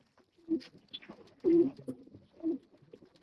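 A pigeon being held to be given medicine coos nearby in three soft, evenly spaced bursts, with quiet rustling in between.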